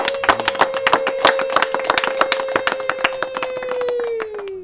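An audience breaks into sustained, dense applause with rapid overlapping hand claps, close and loud, while a steady tonal hum runs beneath and fades near the end.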